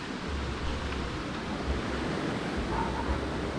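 River rapids at Balneário Água Viva in Presidente Figueiredo, Amazonas, make a steady, moderately loud rushing wash of water with no talk.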